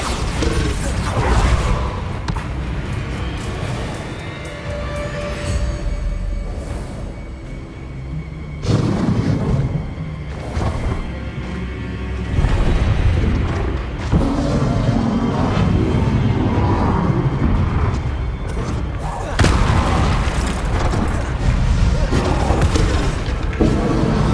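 Spell blasts and magical explosions in the Hogwarts Legacy game, heavy booms and crashes coming in repeated loud bursts over continuous combat effects, with a voice calling out in places.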